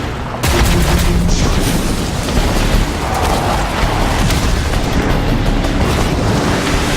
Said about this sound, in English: Don't forget the Hellfire Mortar!